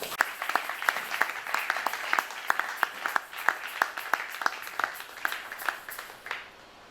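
A church congregation at a Sunday service claps in a steady rhythm of sharp, evenly spaced claps over a continuous wash of applause. The clapping stays lively for several seconds, then fades out at the end.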